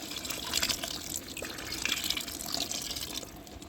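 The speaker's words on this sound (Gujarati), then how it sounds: "તો હવે એમાં આપણે નાખવાનું છે આંબલીનું પાણી." Tamarind water poured into a curd and okra dish, a steady liquid splashing and trickling close up with small drips, running for a few seconds at a moderate level with no talking.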